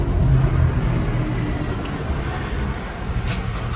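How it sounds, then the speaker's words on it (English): A 21-year-old Jet2.com aircraft pushes back at East Midlands Airport, a steady broad engine rumble and hum heard at a distance and holding at an even loudness throughout. "Jet2 is now pushing back"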